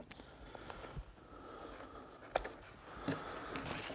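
Scissors snip through a woodburning stove door's rope seal, giving a couple of faint, brief cuts over quiet room noise.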